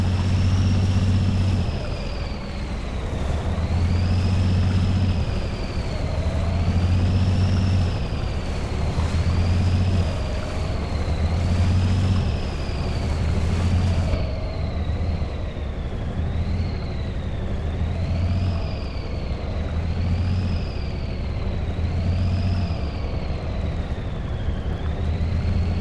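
A heavy truck engine in the Spintires: MudRunner off-road game drones loud and steady, its revs rising and falling in repeated waves as it churns through mud, with no talking.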